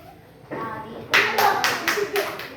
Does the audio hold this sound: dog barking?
no